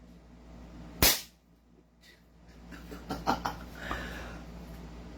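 A single sharp Godfather 6.0 airsoft gun shot fired over a chronograph cracks loudly and close, with a short decay, followed by a few fainter clicks and knocks of handling.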